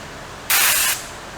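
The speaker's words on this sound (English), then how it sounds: "So, get some brake clean real quick." Brake cleaner sprayed from an aerosol can onto a Polaris Ranger 900 transmission case, a single loud, close hiss lasting about half a second.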